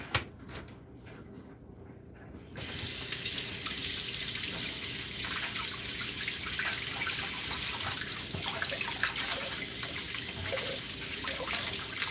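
Fresh produce being washed at a sink: quiet handling at first, then a tap opens and water runs steadily and loudly for the rest of the time, with faint splashing.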